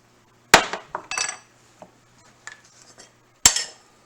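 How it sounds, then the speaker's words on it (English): A spoon clinks against a dish while turmeric and garlic powder are stirred together for seafood farfalle: two sharp, loud ringing clinks, one at the start and one near the end, with lighter taps and scrapes between them. No one speaks. "Let's do a little stir thing."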